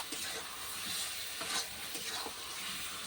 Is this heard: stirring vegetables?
yes